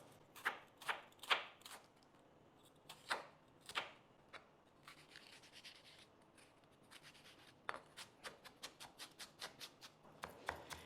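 A knife taps out red onion mincing on a cutting board, sharp close clicks coming in quick clusters with short pauses between, fairly quiet.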